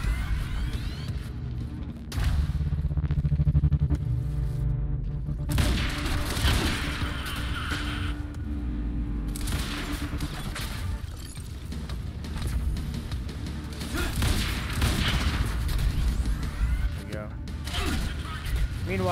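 Quantum Break explosions and gunfire rumble and crack continuously in a dense, busy mix, with voices talking over the action.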